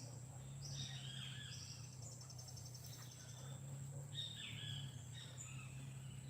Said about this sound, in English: I love just listening to the birds,